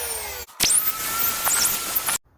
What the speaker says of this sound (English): So I'm just going to use this bit here and drill through.